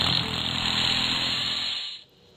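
A drill in a stickman prison escape video game runs with a loud, steady, harsh whir for about two seconds, then cuts off abruptly into near silence.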